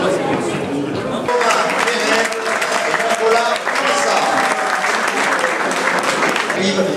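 Crowd applause for trophy-holding podium winners at a cycling race prize ceremony, steady and loud throughout, with an announcer talking over it.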